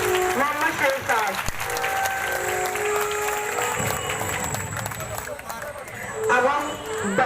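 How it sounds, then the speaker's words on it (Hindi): Applause from a crowd welcoming a speaker at a women's protest in Roshan Bagh, Allahabad, a steady dense clapping that fills the whole stretch with some crowd noise mixed in. "आप सब इनका जोरदार तालियों से स्वागत कीजिए"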